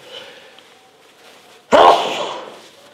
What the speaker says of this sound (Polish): O, właśnie kichnę sobie.